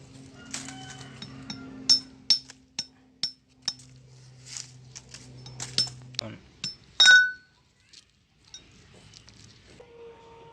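Roasted cashew nut shells are cracked open by hand to free the nuts, giving a series of sharp, close knocks and clinks in an irregular rhythm. Quiet voices talk and hum underneath.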